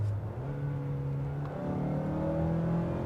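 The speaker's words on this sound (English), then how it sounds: "And when I say responsive, it rev matches downshifts." A 2017 Mazda CX-5 engine blips up in stepped rises as it rev-matches through successive downshifts, a close, moderately loud hum with clear tonal jumps under steady road noise.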